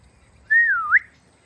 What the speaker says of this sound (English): Whistle her back home.